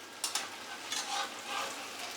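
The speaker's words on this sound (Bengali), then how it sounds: "একটু ভাজা হোক, তারপরে নাড়াবো।" Banana peel fritters fry in hot oil for a Bengali recipe, a soft steady sizzle with a few brief crackling pops and small stirring sounds, close but quiet, no talk.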